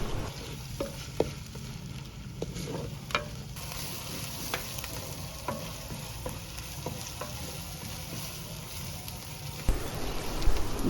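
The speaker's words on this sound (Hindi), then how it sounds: "इसमें प्याज डाल देंगे और भूनते जाएंगे" Onions fry in a pan for daal mash cooked village-style, giving a soft continuous sizzle with scattered spoon taps and stirring scrapes, close but fairly quiet, with no talking.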